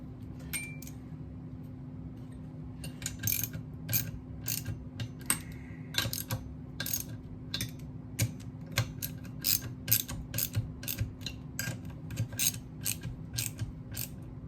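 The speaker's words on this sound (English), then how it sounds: "Go in a crisscross pattern here, which is kind of standard for torquing anything." A ratchet wrench clicks in short bursts while chainsaw cylinder bolts are torqued down in a crisscross pattern, with metallic ticking and small tool clinks over a low steady hum, fairly quiet and close.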